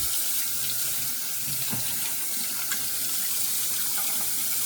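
Tap water runs in a steady hiss to warm a copper razor, a continuous close splashing stream into a sink with no talk.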